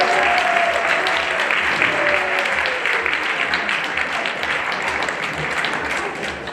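Steady applause from an audience at a school's 100th anniversary celebration, dense clapping sustained throughout and easing only slightly toward the end.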